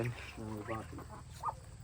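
Kailan ducks, a breed said to come from Chhattisgarh and kept on a village farm, give short nasal calls over about two seconds, mixed in with nearby voices talking.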